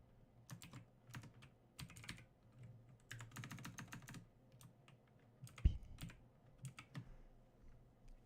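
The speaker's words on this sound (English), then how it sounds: "go to the terminal, type in git" Computer keyboard keys clattering as a git clone command is typed into a terminal, in quick irregular bursts with short pauses and one sharper keystroke near the end, close and fairly quiet.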